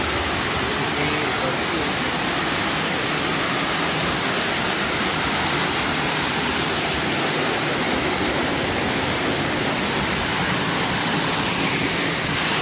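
Somtirth waterfall in Ratnagiri, tumbling over a rocky stretch, roars loud and close in an unbroken, full wash of rushing water that never lets up.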